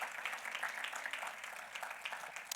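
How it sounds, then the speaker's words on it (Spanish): Church congregation clapping together in praise during a Spanish-language sermon, a steady dense patter of many hands at moderate volume with no talk over it. "Podemos darle un aplauso al Señor, hermanos."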